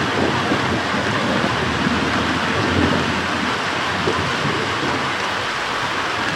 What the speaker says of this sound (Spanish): un tremendo aguacero de gotas gruesas comenzó a caer